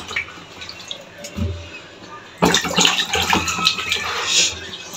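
Tomatoes being washed in water: a quiet, faintly dripping stretch gives way to loud, continuous splashing and sloshing water that lasts to the end.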